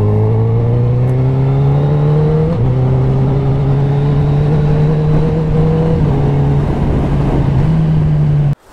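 A heavy motorcycle rides along with a loud, steady engine drone that shifts pitch as gears change, several brief dips and rises over the ride, close and constant before cutting off abruptly at the end, no voices.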